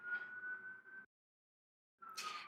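A city siren wails with a steady, sustained tone, fairly faint and distant, cutting out for about a second before returning louder with a brighter, harsher edge.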